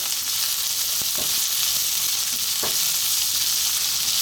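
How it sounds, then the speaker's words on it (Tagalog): Garlic and onion sauté in hot oil for a beef and bean sprout stir fry, a loud, constant sizzle up close, broken by a few soft clicks of a utensil against the pan. "Hintayin lang natin maluto yung ating garlic at ang onion."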